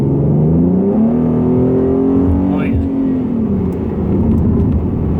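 Tuned Ford Mustang with a 3.7L V6 accelerating on the street, heard from inside as a loud, steady engine drone that rises and falls in pitch through a shift, with no talk over it.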